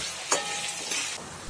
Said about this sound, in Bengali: আলুগুলো লাইট গোল্ডেন কালার করে ভেজে নেব